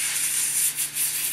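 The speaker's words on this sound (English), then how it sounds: "And I'll spray inside that crown cap." A steady, airy hiss of an airbrush spraying clean water into its crown cap, held for over a second with a brief dip and restart, close and fairly loud, with no talking.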